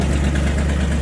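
An old Mopar 318 V8 in a truck idles steadily with a low, continuous rumble close by, running alone without talk.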